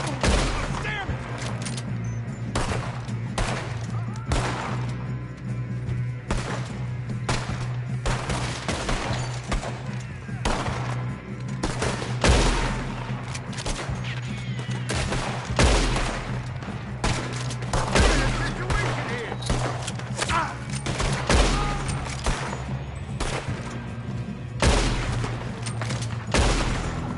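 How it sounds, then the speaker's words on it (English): Dense, sustained gunfire fills a firefight in Red Dead Redemption 2, with rapid overlapping shots and bursts crackling close and loud throughout, and occasional voices breaking through. "Good shooting, kid."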